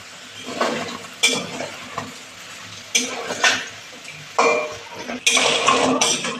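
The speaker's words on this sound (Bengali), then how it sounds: "বড়াগুলো লাল লাল করে ভেজে নেব।" Lentil fritters (bora) fry in hot oil and are turned over in the pan, with a low sizzle broken by repeated sharp clinks and scrapes of a metal spatula against the pan.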